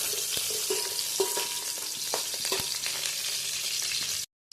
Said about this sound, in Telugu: ఆనియన్స్ వేసుకుందాం, పచ్చిమిర్చి వేసుకుందాం. కొంచెం బాగా వేయించుకోవాలి.